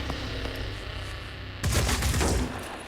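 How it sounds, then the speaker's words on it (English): Gunfire in the Phoenix Point strategy game: a quiet ambient bed, then a loud close burst of several rapid shots that booms and rings out for about a second before fading. "So we might as well just shoot that guy in the head, like that, and then we'll shoot that one in the head."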